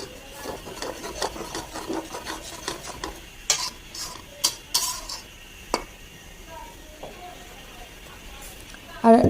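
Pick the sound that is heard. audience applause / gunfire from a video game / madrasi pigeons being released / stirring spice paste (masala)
stirring spice paste (masala)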